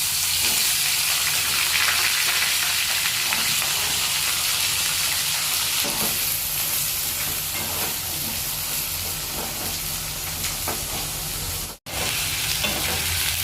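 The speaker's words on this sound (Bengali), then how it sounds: "এবার মা এর মধ্যে দিয়ে দিচ্ছে কেটে রাখা আলুর টুকরোগুলো" Potato pieces drop into hot oil with whole garam masala and bay leaves for Bengali muri ghonto, and a loud, dense frying sizzle follows, crackling steadily throughout with no talk.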